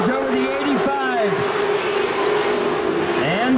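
Race cars on an oval track roar past in several loud, close passes, their engine pitch rising and falling as each car sweeps by over a continuous drone of the field.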